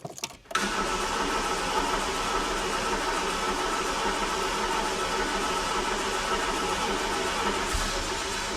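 A 1990 British classic car with the choke pulled out, started after winter storage: a short cranking burst, then the engine catching and settling into a loud, steady running drone close by.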